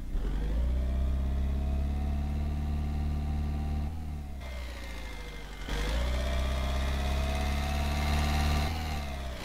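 An Iveco van's engine runs in Euro Truck Simulator 2. It sounds as a steady mid-pitched drone that revs up, drops off briefly near the middle, then settles back to a constant hum.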